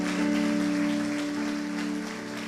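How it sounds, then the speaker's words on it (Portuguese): A church congregation applauds in a steady, dense wash of clapping over a held keyboard chord, with no voices on top. "dê uma salva de palmas para Jesus"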